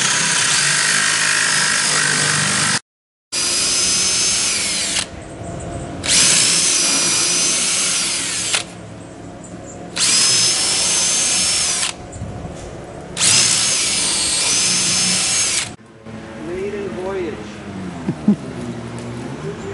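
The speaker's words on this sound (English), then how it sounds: "There's a motor that they just put on there, and it's got a little wheel on it." An electric motor on a home-haunt Halloween prop drives a small wheel and belt, whirring loudly in several long bursts separated by short pauses.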